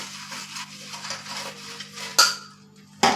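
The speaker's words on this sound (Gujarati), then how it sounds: "બધું એડ કરી અને આપણે ગરમ તેલમાં બરાબર મિક્સ કરી લેશું" Spices being stirred with a utensil in hot oil in a pan, with steady scraping and clinking near the mic and two sharp metallic knocks against the pan toward the end.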